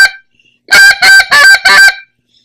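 Shorty World Champion short reed goose call blown in four quick, loud, high-pitched honking notes after a brief squeak, alone with no talking.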